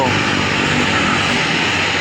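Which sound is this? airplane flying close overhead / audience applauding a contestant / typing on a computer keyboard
airplane flying close overhead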